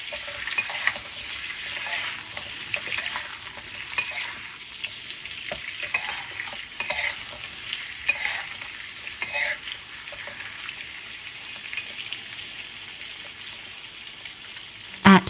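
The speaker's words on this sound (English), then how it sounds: "add pork ribs to the caramel oil. Stir so sugar coats the rib surface evenly." Pork ribs sizzle steadily in caramelised sugar oil while being stirred, with a dense continuous frying hiss, close and moderately loud, broken by occasional scraping stir strokes and no voices.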